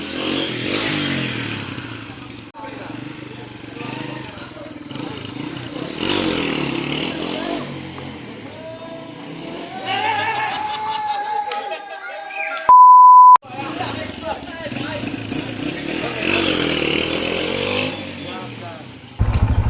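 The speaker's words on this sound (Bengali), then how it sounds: "সো গাইজ, এখন রাইড করতেছি দ্য লিজেন্ডারি CG125" A Honda CG125 motorcycle is ridden with its engine note rising and falling under someone talking, and a loud electronic beep cuts in briefly near the end.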